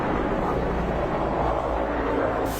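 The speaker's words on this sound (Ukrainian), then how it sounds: "Це вертольоти, це ще не дуже голосно." Helicopters pass overhead in a wartime setting, a loud, continuous rumbling roar that holds steady for the whole short stretch.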